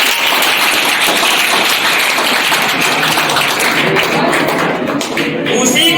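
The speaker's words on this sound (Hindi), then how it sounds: "चलो एक प्रतीक के लिए जोरदार ताली बजा दीजिए।" Loud, sustained applause from an audience at a district general knowledge quiz prize ceremony in Prayagraj, many hands clapping steadily and close for several seconds.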